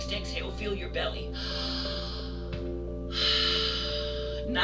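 Deep diaphragmatic breathing during a yoga session, two long, steady airy exhales heard close up, the second louder, after a voice speaks at the start.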